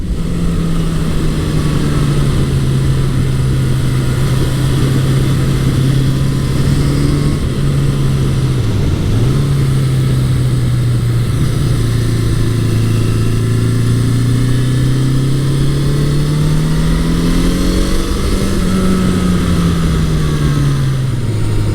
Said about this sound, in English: Yeah, that motor pulls really nicely.